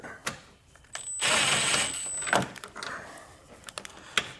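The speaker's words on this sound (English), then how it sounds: "So I'm just gonna take my angled attachment and a 10mm socket and get that backed out." A 10mm socket on an angled attachment backs a bolt out while fitting a base plate kit to a 2025 Jeep Grand Cherokee: a sustained whirring drive run of about a second and a half, then scattered close clicks and metallic knocks.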